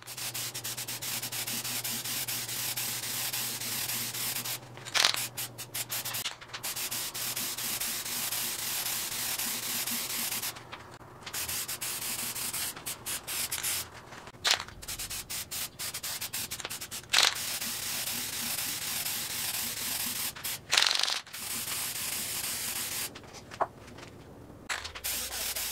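Tack coat being spray painted onto a guitar face: a steady hissing airbrush-like spray in long runs, broken by brief pauses and small clicks, close and continuous without speech.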